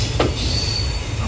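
An express train pulls out of a station, steel wheels giving a sustained high squeal over a steady low rumble, heard close and continuous with a faint swelling tone.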